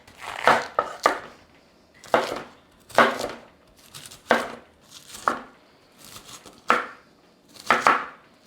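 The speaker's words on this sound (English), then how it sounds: "I'm just gonna go ahead and chop up this whole head" A knife chops through a whole head of vegetable on a board for pad Thai, about ten crisp crunching strokes in irregular bursts with short pauses between, close and clear.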